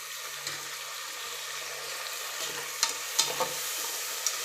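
Chopped tomatoes sauté in a pan with a soft steady sizzle, broken by a few light clinks and scrapes of stirring, close but fairly quiet over a low hum.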